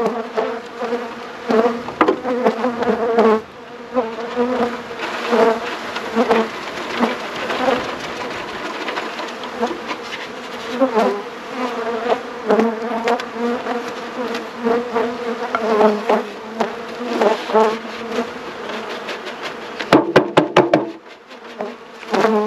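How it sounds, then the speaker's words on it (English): Honeybees shaken from a nuc box into a full-size hive swarm in a loud, dense buzz, close and continuous, with thumps and knocks of the box breaking through and a brief burst of clatter near the end. "we need to shake the remaining bees from that box into there."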